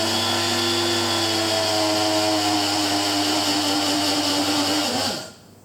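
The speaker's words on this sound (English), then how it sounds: "move the sugar into my grinder. It's going to make a little bit of noise" Electric grinder whirring loudly and steadily as it pulverises sugar into fine powder, a continuous high motor whine with a falling pitch that cuts off abruptly near the end.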